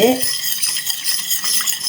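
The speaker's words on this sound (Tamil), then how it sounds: "கலந்து விட்டுடுங்க நல்லா கலந்து விட்டுட்டு" A dish wash liquid mixture for cleaning brass pooja vessels is stirred steadily in a container, producing continuous close swishing and scraping with faint clinks, with no speech.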